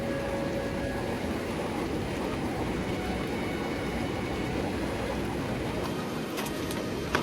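A cold, clear river flows through a mountain valley on the Sichuan–Tibet 318 route, making a continuous broadband rush that is close and steady, with no talking.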